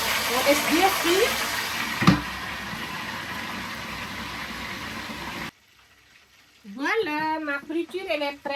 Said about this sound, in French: On laisse bien frire.